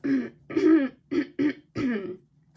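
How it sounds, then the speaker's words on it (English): Someone clears their throat several times in a row, short raspy bursts close to the microphone with brief pauses between them. "I had to clear my throat a lot then"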